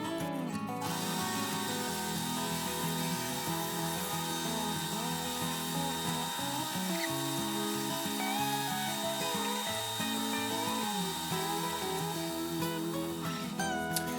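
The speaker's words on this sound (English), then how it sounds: "I'll do is plunge the drum sander and run back and forth just to smooth" A drum sander chucked in a drill press smooths the rough edges of a wooden baby rattle toy, giving a steady, close, continuous rubbing whir with slight shifts as the wood is moved back and forth.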